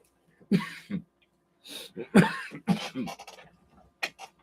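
A few harsh, throaty coughs in short bursts, close and fairly loud, with brief pauses between them.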